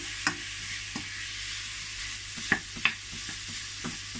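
Lamb frying in a pan gives a soft steady sizzle, punctuated by several sharp utensil taps and stirring clicks at irregular intervals, close and without talk.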